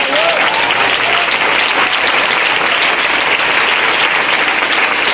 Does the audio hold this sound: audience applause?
yes